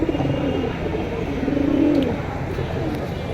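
A pair of silver pigeons for sale coo softly in low, rolling calls, close by, over a steady background hum of a busy bird market.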